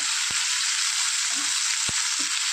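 Onions and garlic sautéing in a pan for a spicy jackfruit-seed chilli curry, a steady loud sizzle running throughout with a couple of soft scraping knocks as the mixture is stirred.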